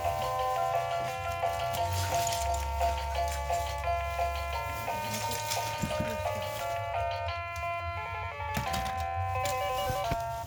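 A battery-powered toy microphone plays a bright, tinny electronic melody of steady stepped notes, close and fairly loud, with faint handling noise and clicks beneath.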